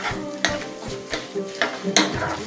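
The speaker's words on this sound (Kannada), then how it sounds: "ನೆನಪಿರ್ಲಿ, ಲೋ ಫ್ಲೇಮಲ್ಲೇ ಇದನ್ನ ಹುರಿಬೇಕಾಗತ್ತೆ" Cashews roast in a pan on low flame, with a soft sizzle under repeated close stirring strokes that scrape and tap the pan in an uneven rhythm.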